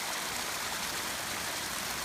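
A waterfall's steady rushing roar, heard from up close at the water near a back porch, a continuous broadband wash of flowing water with no break and no voices.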